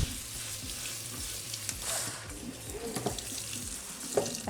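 Water runs from a kitchen tap into the sink, a steady hissing rush broken by splashes and clinks. It stays fairly quiet and close, with no voices.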